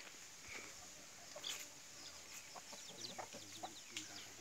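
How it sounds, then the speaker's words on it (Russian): Chickens clucking on a cashew plantation in Cambodia, with short scattered calls near and far over steady outdoor background noise. "Тут же у них курицы,"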